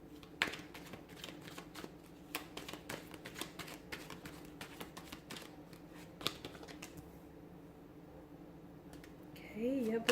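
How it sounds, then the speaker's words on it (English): Tarot cards being shuffled repeatedly, a steady stream of soft riffling and flicking clicks, close up, with a faint hum underneath. "we'll give the cards a shuffle"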